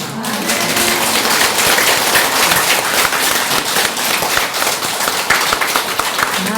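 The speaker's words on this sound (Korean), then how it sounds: "우리 황 장로님에게 정말 아멘 박수 한번 보내야 되겠어요" A church congregation at a special revival meeting bursts into loud, sustained applause for an elder, a dense continuous roar of many hands clapping close by.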